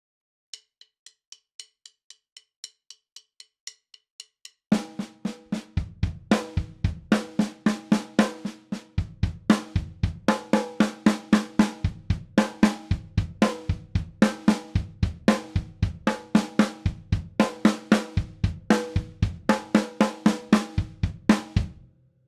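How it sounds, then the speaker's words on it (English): Slow linear drum fill played on a snare and kick drum kit, beginning with a few soft taps, then a steady stream of single alternating snare strokes and kick hits, close and loud with no talking. "I'm just going to do it on the snare drum, just to show you what it feels like just to improvise down at the kick drum and back up."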